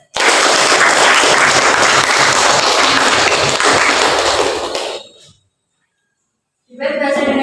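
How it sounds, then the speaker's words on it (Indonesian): An audience at a school Indonesian-language debate applauds for both teams, a dense loud burst of clapping that fades out, then a brief silence before another round of clapping begins. "Kita beri tepuk tangan untuk kedua tim terlebih dahulu."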